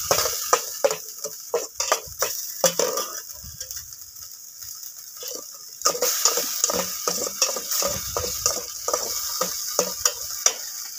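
Garlic frying in oil in a pan for tuna carbonara, a soft sizzle broken by frequent rhythmic scrapes and clinks of a utensil stirring against the pan.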